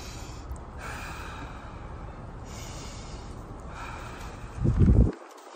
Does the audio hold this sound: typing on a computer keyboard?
no